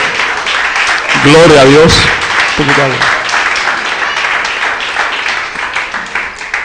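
A church congregation applauds in a dense, sustained burst while a voice speaks loudly over the clapping and then a second short phrase follows.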